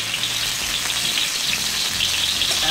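Garlic sautéing in a pan over a lit stove makes a steady, close sizzle and crackle of frying that runs unbroken, with no voices over it.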